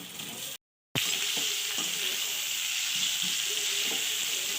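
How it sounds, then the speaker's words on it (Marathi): Onion with turmeric and muthiya dumplings of fenugreek and bottle gourd fry in a pan, a steady loud sizzle with crackles throughout, briefly cut by a moment of silence near the start. "आता आपण याच्यात थोडीशी हळद टाकणार आणि संपूर्ण वड्या हे मुटकळे याच्यातच फ्राय करू"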